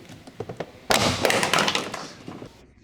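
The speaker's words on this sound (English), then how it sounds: "Using the trim panel pry tool, work along the edges of the door panel to pop it off" Interior door panel of a 1996 Honda Civic EK being popped off with a plastic trim pry tool: a few light taps, then a sudden loud thunk and rattling clatter that fades out over a couple of seconds.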